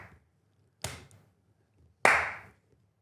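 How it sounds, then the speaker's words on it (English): Hand claps in an office, two sharp, distinct claps about a second apart and then a final louder, ringing clap, with quiet room tone between and no talking. "You managed to clap 3 times there as well."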